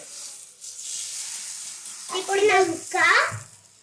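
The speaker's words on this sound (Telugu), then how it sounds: "మనము దోశలు వేయాలంటే ఇలా తీసుకొని ఇలా వేయాలి" Dosa batter spread onto a hot pan hisses in a steady, soft sizzle that swells louder partway through, with a voice talking briefly over it.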